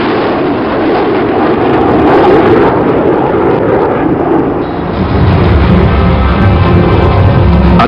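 A Su-22 military jet at Świdwin roars with loud, dense, continuous engine noise, a broad rumbling blast that swells slightly toward the end.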